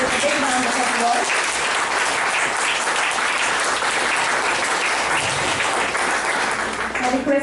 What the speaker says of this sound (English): I request the audience to kindly welcome ma'am with a big round of applause.